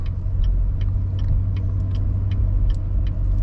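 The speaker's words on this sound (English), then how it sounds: "Going over the speed bump was nice and dampened and everything" Chevrolet C7 Corvette Grand Sport rolling over a speed bump, heard from inside as a steady deep road rumble and low engine drone with faint periodic ticks, with no distinct jolt standing out.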